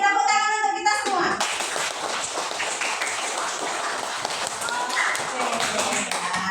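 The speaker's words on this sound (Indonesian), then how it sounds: "Tepuk tangan untuk kita semua." Children in a classroom clap their hands together, bursts of uneven claps close by that start after a brief moment of chatter and continue in a loose rhythm, with young voices mixed in.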